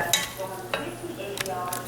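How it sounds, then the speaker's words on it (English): Thick-cut mushrooms are pushed around a hot pan for Swiss steak, with soft sizzling beneath a few sharp scrapes and clinks of the spoon against the pan, close and moderately loud, no one speaking. "So we'll add some mushrooms. Stir these around."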